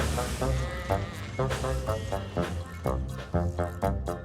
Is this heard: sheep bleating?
yes